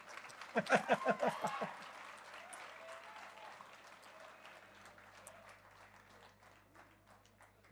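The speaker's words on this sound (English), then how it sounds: "let's start with a big applause to all the degree holders and all the winners" Audience applause at the 20th convocation ceremony of the Indian Institute of Plantation Management, Bengaluru: a loud burst of crisp, close claps that thins into softer, scattered clapping with room murmur underneath.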